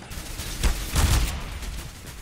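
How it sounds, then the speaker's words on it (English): A flashbang grenade detonating in CS:GO sounds as a sharp burst with a second heavy bang close behind it. The sound is loud, close and dense, with game noise around it and no speech. "Throwing flashbang."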